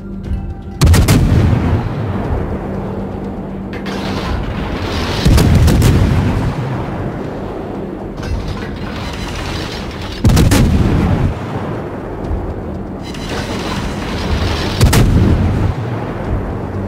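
Heavy naval artillery booms out in World of Warships from a US cruiser Atlanta, with loud broadside salvos arriving every few seconds, each followed by a rumbling decay, and no talking.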